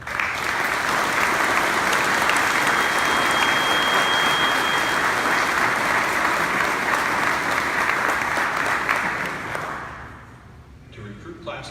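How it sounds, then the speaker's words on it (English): A large audience at a fire department recruit class graduation ceremony claps loudly and steadily for about ten seconds, then the applause fades out and a voice begins. "Let's give them another round of applause"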